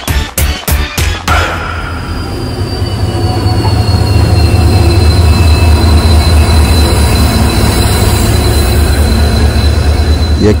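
A train pulling into a railway station, opening with a series of loud clanks before a long, steady, rising rumble of wheels and a sustained high squeal of braking, close and loud.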